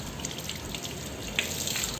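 Yellowish borewell water runs out of a pipe at home in a steady, continuous splashing stream, near and moderately loud, with no talk over it.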